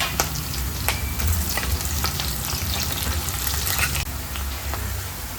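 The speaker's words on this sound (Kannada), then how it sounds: "ಚೆನ್ನಾಗಿ ಫ್ರೈ ಮಾಡ್ಕೊಳ್ಬೇಕು." Chopped onion and dried red chilies frying in oil for a Malabar spinach curry, a steady close sizzle with occasional stirring scrapes throughout, no voices.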